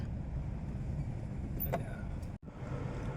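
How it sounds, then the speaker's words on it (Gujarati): A tractor approaches along a narrow farm road between wheat fields, giving a quiet, steady low engine rumble heard from a distance, with a brief dip near the end and no voices. "સામેથી મસ્ત મજાનું ટ્રેક્ટર આવી રહ્યું છે"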